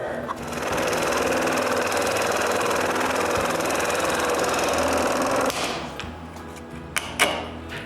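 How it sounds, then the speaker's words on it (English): A scroll saw buzzes steadily through oak for about five seconds while cutting a dovetail socket, then stops, leaving a few light clicks and knocks. "I cut the socket with the scroll saw"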